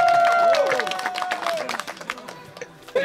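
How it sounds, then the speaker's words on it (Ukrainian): Audience applause at an outdoor rally gathering in Polesia, a steady wash of clapping with crowd voices and a tonal whistle-like sound on top, thinning out toward the end. "оплески!"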